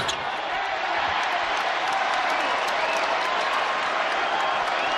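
Steady roar of a basketball arena crowd cheering during a Colorado State versus New Mexico men's college game, loud and sustained throughout with no break.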